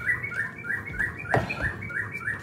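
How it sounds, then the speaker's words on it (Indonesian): Birds chirp close by in a repeating series of short, bright tweets at a steady rhythm, interrupted by a single sharp knock from someone working on a Suzuki Address 110 FI scooter. "Mana banget tuh suara burung."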